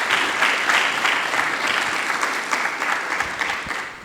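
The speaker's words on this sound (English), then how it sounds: "Give him a round of applause, please." A symposium audience breaks into sustained applause, dense clapping that holds steady for several seconds before tapering slightly at the end.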